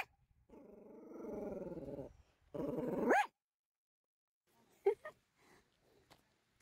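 A dog growls in two sustained, rumbling stretches, ending in a sharp rising yelp, then a few short soft barks and snuffles follow at a distance in a quiet mountain setting.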